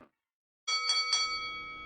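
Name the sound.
bell signalling the end of the show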